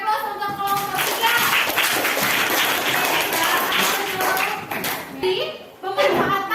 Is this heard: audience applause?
yes